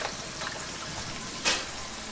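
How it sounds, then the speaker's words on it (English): Pieces of ulu (breadfruit) fry in hot oil with butter, giving a steady soft crackling sizzle with one brief louder burst of spitting partway through; no voices. "I think our oil is good now, so let's go ahead and throw in our pieces of ulu"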